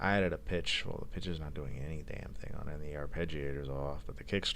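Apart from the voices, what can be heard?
No distinct noise like a dog, phone or traffic.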